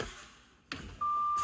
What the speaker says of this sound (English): The low air warning alarm has activated no lower than 55 psi.